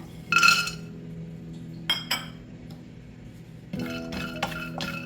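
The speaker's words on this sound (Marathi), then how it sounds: "आता आपण शेंगदाणे भाजून घेऊया" Peanuts are dry-roasted in a pan for poha ladoo, with bright metallic clinks of a spoon against the pan, then a steady rattling stir near the end.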